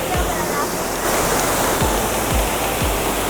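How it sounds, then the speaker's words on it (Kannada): Water rushes near Gokak Falls in a loud, continuous roar that fills the whole short stretch, close by and steady with no pauses. "ನೋಡ್ರಿ ನೀರು ಹೆಂಗೆ ಹರಿದು ಹೊಂಟೈತೆ"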